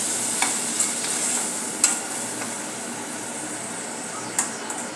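Ground masala paste sautés in a pan for a potato and drumstick vegetable dish, giving a steady soft sizzle with a few light spatula scrapes and clicks as it is stirred.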